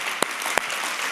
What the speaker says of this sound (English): Give a round of applause for coming up.